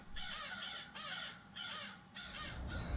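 A crow caws four or five times in a steady series of harsh calls near an owl nest, outdoors and moderately close, with no voices.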